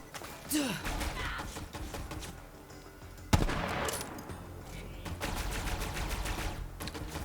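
Enemy gunfire rains down from above in the Borderlands game, rapid bursts of shots crackling continuously through the busy combat soundscape, with a sharp loud crack partway through and a voice talking at times.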